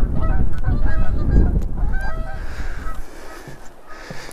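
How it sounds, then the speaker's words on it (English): Geese flying very low overhead over open heathland at Thursley Common, a loud close chorus of repeated honking calls that fades slightly as the flock passes, with no one speaking. "geese really low."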